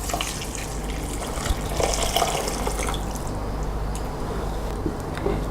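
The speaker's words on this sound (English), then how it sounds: "I'm going to pour this over my couscous" Hot stock from a kettle pouring steadily over couscous for several seconds, a continuous watery splash with some dripping, close by and with no voices.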